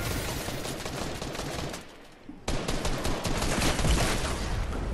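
Dense, rapid gunfire crackles through a battle royale game fight, a nonstop fusillade that dips briefly into near silence before resuming just as loud.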